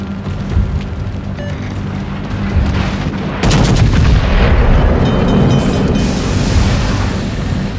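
Naval artillery fire rumbles heavily in a video-game battle, building to a loud, sustained barrage of deep booms and roaring blasts partway through, with no talking.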